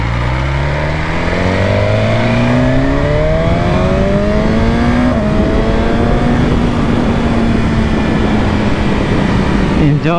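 A BMW S1000R motorcycle accelerates hard and loud, its engine note climbing steeply through several gears with brief shifts, close and constant, with wind roar underneath.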